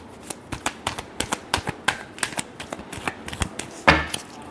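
A deck of tarot cards is shuffled in rapid riffling bursts, a steady rhythmic run of close, crisp card slaps ending in a heavier final snap, with no voice.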